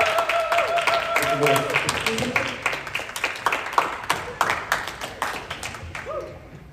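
Scattered audience clapping at a conference morning session welcoming a speaker to the stage, distinct individual claps in an uneven rhythm with voices and whoops mixed in, thinning out toward the end.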